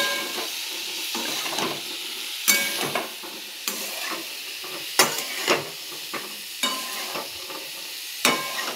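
Cauliflower sautés with cumin and coriander powder in a pan, a loud continuous sizzle broken by repeated scraping stirs of a spatula at a steady, uneven rhythm.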